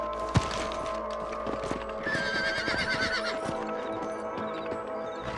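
In the video game Red Dead Redemption, a horse whinnies loudly and hooves clop on the ground in a few scattered steps, with a sharp thump near the start.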